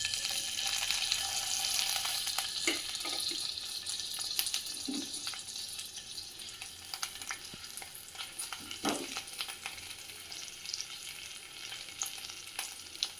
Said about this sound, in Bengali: এবার ঘিয়ের ভেতরে দেবো লঙ্কাগুলো।